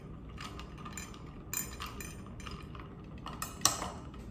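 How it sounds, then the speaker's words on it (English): A metal spoon stirs iced coffee with syrup in a glass, giving soft scraping swirls and a few sharp clinks against the glass, the loudest near the end, close by with no talk. "Then I'm just gonna go ahead and blend it with the end of this spoon real quick."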